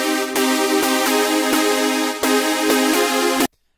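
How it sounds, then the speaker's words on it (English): A big saw-wave chords synth lead plays a chord progression: thick, buzzy sustained chords restruck roughly nine times in a steady rhythm, loud and alone, then cut off abruptly. "I'm a big fan of the lead that's big saw chords."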